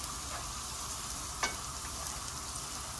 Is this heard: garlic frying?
yes